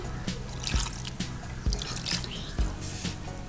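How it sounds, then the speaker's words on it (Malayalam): Water left from boiling chicken is poured into fried chicken dum biryani masala in a pot, giving wet drips and splashes with a few sharper plops, close up and with no voices. "ഇതിലേക്ക് ചിക്കൻ വേവിക്കാൻ ഉപയോഗിച്ച വെള്ളം ആവശ്യത്തിന് ഒഴിച്ചു കൊടുക്കാം"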